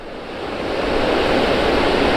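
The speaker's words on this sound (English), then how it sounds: "It's a nice little waterfall here," A small waterfall flows beside a road, a dense, steady rush of water that swells slightly louder, close and without voices.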